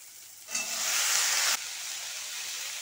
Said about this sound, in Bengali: তো এখন কিছু সময় এইভাবে ভেজে নিব।